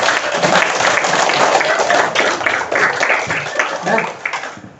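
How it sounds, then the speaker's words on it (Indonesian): Classroom applause for a group that has just presented: dense, loud clapping from many students close by, steady for several seconds and tapering slightly at the end, with faint voices underneath. "Oke, tepuk tangan dulu buat semuanya"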